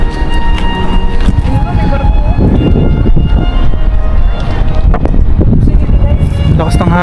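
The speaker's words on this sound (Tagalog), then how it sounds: "Lakas ng hangin." Strong wind buffets the microphone in a continuous loud roar outdoors at a park by the water, with people talking underneath the gusts.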